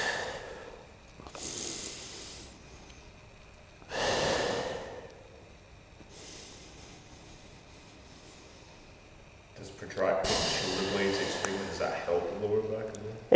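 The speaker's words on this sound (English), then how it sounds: "you just have to sit in a quadruped position, like so, and then you just have to breathe through it" Slow, deep breaths drawn in and pushed out in a kneeling hands-and-knees position to ease a muscle spasm, several loud close exhalations spaced apart, with talking mixed in near the end.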